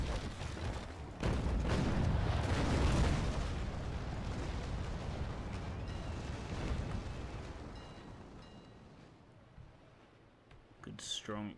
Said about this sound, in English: Good strong exchange of fire there.